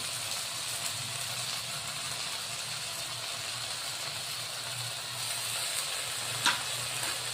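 Homemade schezwan chutney, red chili sauce and tomato ketchup sautéing in a pan for fast-food chow mein noodles, giving a steady, close sizzle with a brief clatter near the end.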